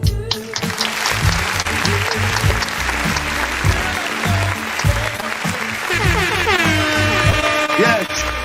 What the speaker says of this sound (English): So can I get a round of applause for my boy?